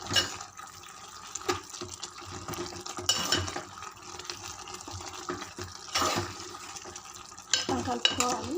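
Mashed gongura (sorrel leaves) is stirred in a pan, giving irregular scraping and wet mixing strokes over a low sizzle, close and moderately loud, with no talking.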